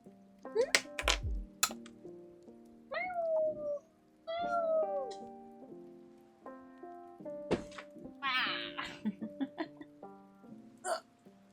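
A cat meows repeatedly up close indoors, rising and falling calls with chirps and thumps between them, while a person talks over parts of it.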